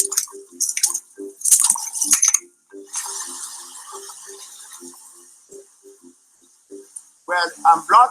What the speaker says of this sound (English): Well, I'm blocking all the water, but the water I'm blocking is not the river. It is hot water.